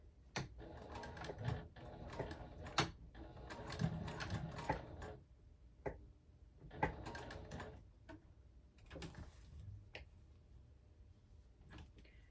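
Sewing machine stitching slowly across zipper teeth on a clutch bag, skipping stitches as it goes; irregular bursts of clicking and clacking with pauses and sharp ticks, moderately quiet and close, no voices.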